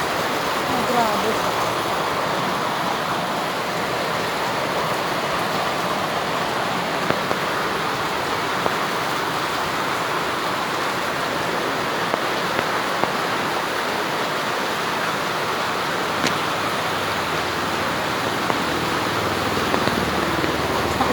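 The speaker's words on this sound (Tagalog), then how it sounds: "Ulan." Heavy rain pours down in a dense, constant hiss and patter that stays loud and close throughout, with occasional sharper drips.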